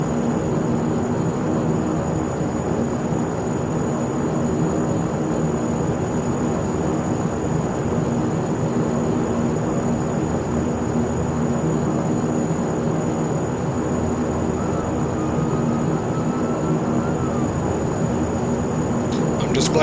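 Steady, continuous engine drone of a Saab 340 turboprop taxiing in the flight simulator X-Plane 11, a constant hum throughout with occasional talk over it.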